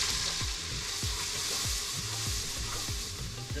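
Onions and celery sizzle in bacon fat in a pot, a steady crackling hiss with repeated spoon scrapes and stirring knocks at a regular pace, close by and without speech.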